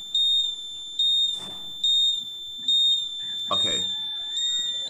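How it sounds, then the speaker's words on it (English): A homemade power-outage indicator buzzer sounds a steady high electronic tone in repeated pulses about once a second, loud and close, with brief rustling and handling noises between beeps. "So let's switch it off and see with a buzzer."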